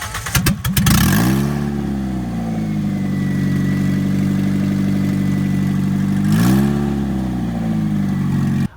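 Toyota MR-S fitted with a swapped 2ZZ engine cranks and starts, then holds a steady, loud mid-pitched idle with one sharp rev-up and settle near the end, close and alone with no talk.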